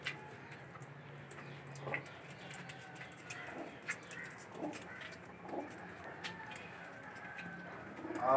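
Pigeons coo softly in repeated low, rounded calls amid a busy ambient background with scattered clicks and faint bird chatter, the birds sounding moderately close but not loud.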